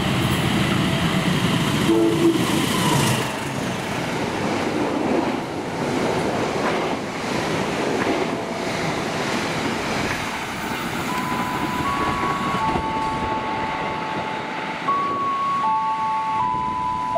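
An Indonesian passenger train hauled by a class 201 locomotive rushes past with a steady rumble and clatter of cars, and a sustained horn sounds briefly early on, then again in long tones near the end.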